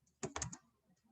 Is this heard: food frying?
no